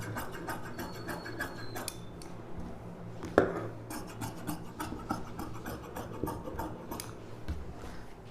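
Scissors cut through the silk lining fabric of a saree blouse, snipping from the shoulder in a steady run of soft, rasping cuts, close and faint, with one sharper click midway.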